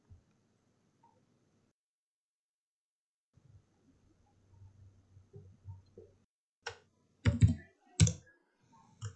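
A computer keyboard is tapped in a quiet room: a few faint, sparse keystrokes at first, then a short cluster of sharper, louder clicks near the end.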